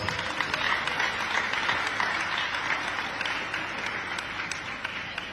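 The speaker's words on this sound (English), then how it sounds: "May we please give him another round of applause" Applause for a guest at an academic community conversation event in Anambra State, a thick continuous round of clapping from a crowd, steady and moderately loud throughout.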